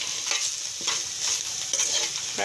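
Bitter gourd vegetable frying with turmeric in a pan, an even sizzle broken by quick scraping stirs every half second or so, close and alone.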